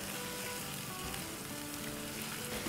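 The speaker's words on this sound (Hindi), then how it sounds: "इसके साथ हम भूनेंगे अराउंड 5 से 6 मिनट तक।" Chicken tahiri sizzles steadily in a pan over a medium to medium-high flame, a continuous dense crackle and hiss with no talking.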